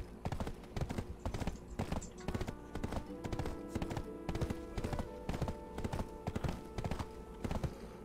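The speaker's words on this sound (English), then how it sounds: "Get off my horse, Ricker." Horse hooves clip-clop steadily on the ground in the Black Desert Online video game, a regular close rhythm with game music and effects underneath and someone talking over it.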